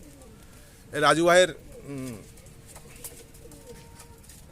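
A Kalshera Giribaz pigeon gives a soft, close coo, briefly covered by someone talking loudly over it.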